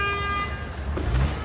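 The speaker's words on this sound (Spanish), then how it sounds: "No les digo de groserías a los que me están tocando el claxon porque soy payaso." A car horn blares in a steady, sustained toot through busy Mexico City street traffic, with engine rumble and road noise underneath that swell toward the end.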